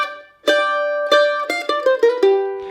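A mandolin plays a short minor blues lick alone: a handful of plucked notes and quick picked runs that descend and resolve onto a final sustained note, bright and close.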